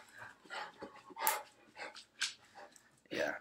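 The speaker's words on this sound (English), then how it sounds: "I think he saw another dog outside, so he feels the need to bark" A dog barks in short, sharp bursts at varying loudness with breathy huffs between them, fairly close indoors, heard alone without talk.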